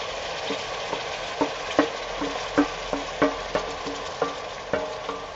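Shrimps stir-frying in a hot wok with Brussels sprouts give a steady sizzle, punctuated by regular scraping and clattering strokes of the stirring utensil at roughly half-second intervals, close and moderately loud.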